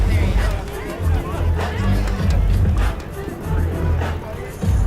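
Crowd murmur and chatter at the start line of the Amgen Tour of California bike race, a dense, steady outdoor babble close by with voices rising and falling throughout.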